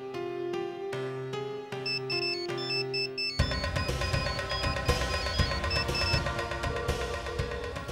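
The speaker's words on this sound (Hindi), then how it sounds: "फोन उठाओ आर्यन," A mobile phone ringtone plays a steady, loud melodic electronic tune, with no one talking over it.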